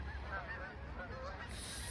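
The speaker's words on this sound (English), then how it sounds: "Whole flocks of wild geese." Flock of wild geese honking outdoors, a continuous overlapping chorus of calls at moderate distance, steady and fairly loud throughout with no talking.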